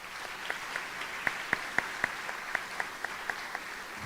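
A crowd at a Nokomis Regional High School underclassman assembly gives scattered applause, heard as faint, sparse, crisp claps at an irregular rhythm in a quiet room.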